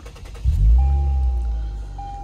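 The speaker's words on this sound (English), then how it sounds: "I'm gonna start it up, get some air going." A 2022 Lexus IS 350 starts up with a low engine rumble that settles into a smooth idle, with a steady chime sounding from inside the car.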